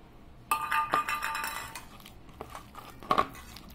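Fried potatoes are tipped into a pan of cooked vegetables, starting with a bright metallic clatter and scrape, then softer intermittent clinks of a utensil against the pan, close and without speech.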